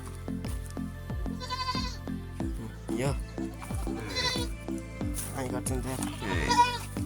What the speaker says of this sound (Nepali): अनि यो बाख्राको पाठी